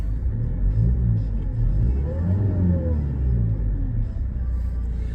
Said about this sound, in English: I'm going to give it a quick rev.